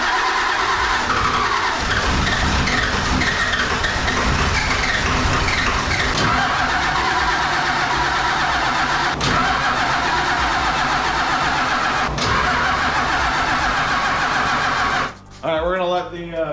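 A Ford OBS Powerstroke diesel engine with a battery charger connected cranks steadily and loudly for a long stretch, then stumbles as it catches near the end.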